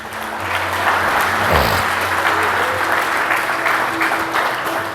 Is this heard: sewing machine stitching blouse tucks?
no